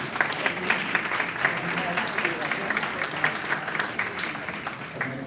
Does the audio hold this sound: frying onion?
no